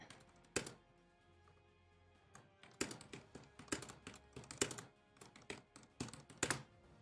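Typing on a computer keyboard, a brisk irregular run of close, crisp key taps and clacks with short pauses between bursts, heard alone without talking.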